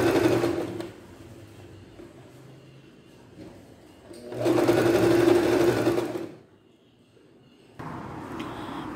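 A sewing machine runs in steady whirring bursts as it stitches a hem on stretch fabric, with a loud run in the middle, quieter stretches around it and a short pause before the stitching starts again.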